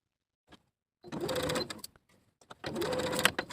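A sewing machine basting jumpsuit straps in place runs in two short bursts of rapid whirring stitches, separated by a brief pause with faint handling clicks.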